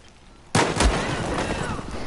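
A Battlefield 4 gunshot cracks out sharply and loudly after a quiet moment, then trails into a rolling echo and rumble, with a second thumping impact shortly after.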